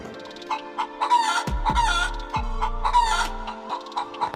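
Cartoon chickens cluck continuously close by, with a rooster-like call rising among them, while a low tone plays in the background.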